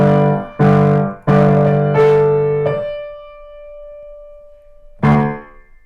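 A piano plays a short phrase from the chorus of a song: several distinct struck chords in a loose rhythm, then a single held note that rings and fades before one more chord lands.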